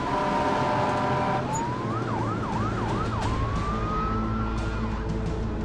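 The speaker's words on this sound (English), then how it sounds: "emergency vehicles are responding" Emergency vehicle sirens responding to an airliner crash at an airport, a loud wailing siren shifting into a rapid yelp and back to a long rising wail over a constant rumble of engines and roaring background.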